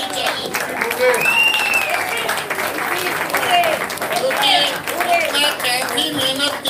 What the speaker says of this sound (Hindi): तो मेरे हिसाब से स्टैंडिंग ओवेशन बनता है। जरा प्लीज इससे रिक्वेस्ट और तालियां बजती रहनी चाहिए।